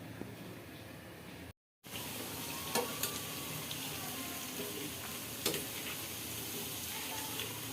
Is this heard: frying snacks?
yes